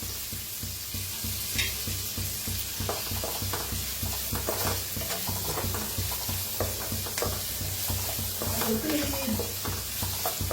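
Finely chopped onion sizzles steadily in a hot pan and is stirred now and then, giving a constant close hiss and crackle with soft scraping, while a voice talks faintly in places.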